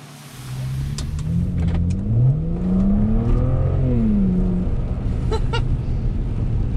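A BMW 335i accelerates hard from inside the cabin, its engine note climbing loudly in pitch through the revs before settling into a steady roar.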